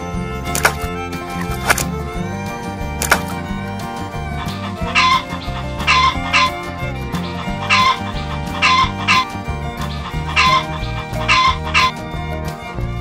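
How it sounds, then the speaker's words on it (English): A rooster crows several times in a row, loud and close, its calls mixed with clucking fowl and some barking in the background. "Rooster, rooster,"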